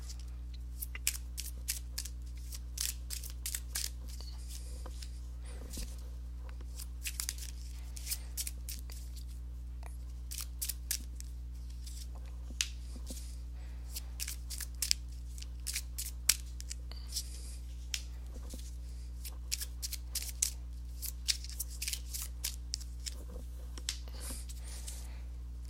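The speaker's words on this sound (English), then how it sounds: "let's go ahead and give these cards a shuffle" Tarot cards being shuffled in short riffling bursts, repeated many times with pauses between, fairly quiet over a steady low electrical hum.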